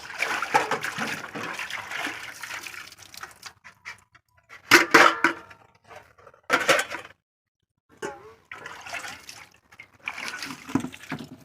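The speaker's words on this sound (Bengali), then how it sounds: "আর একবার জল দিয়ে ভালো করে ধুয়ে নিচ্ছি।" Tap water splashes over dishes being rinsed in a basin, coming in uneven bursts of running and splattering with short quiet gaps between them.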